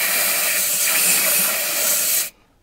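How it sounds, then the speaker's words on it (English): A can of compressed air blasts a steady, loud hiss into an oil-filled gap in a rebuilt engine, holding for about two seconds before cutting off abruptly. "Where's that can of air? Let's just blow some of it out."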